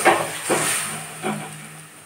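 A covered pot of onion and water simmers on the stove, giving a steady soft hiss like escaping steam, with a few faint gentle bumps under it.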